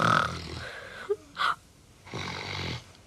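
A person imitates snoring with a couple of short snorting breaths to test a snore-sensing pillow, between bursts of nearby conversation.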